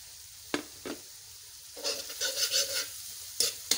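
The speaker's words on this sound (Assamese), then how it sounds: "পিঁয়াজখিনি বহুত ভাজিব লাগিব পূৰা ৰঙা হোৱাকৈ ভাজিব লাগিব" Onions fry in a pan with a little ginger-garlic paste and sugar, a spatula scraping twice before a short burst of sizzling and stirring, then another scrape near the end; close by, no talk.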